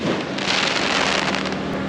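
Fireworks show at a race track, heard as a dense, continuous crackling and rumbling wash of bursts, loud and sustained throughout with no voices over it.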